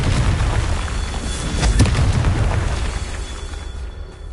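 A Confringo blasting spell explodes in the Hogwarts Legacy video game, a deep boom bursting out of a steady roaring rumble, then slowly trailing away.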